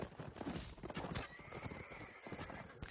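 A horse in a medieval real-time strategy game whinnies loudly while hooves clop rapidly nearby, the neighing rising over a busy patter of hoofbeats for about three seconds.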